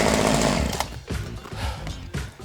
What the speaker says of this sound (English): So when you first put the chainsaw on